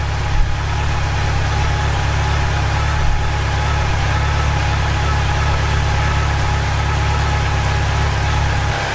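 A Yamaha FJR 1300 motorcycle engine idles steadily during a throttle body sync, a constant close-up rumble with an even, unbroken drone and no voices.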